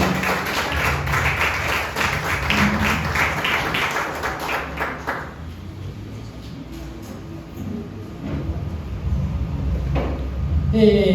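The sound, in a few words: congregation applauding guest pastor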